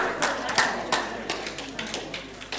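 A small group at a risk-awareness session claps in loose, uneven bursts, individual hand claps standing out close and crisp before tapering off, with faint background voices.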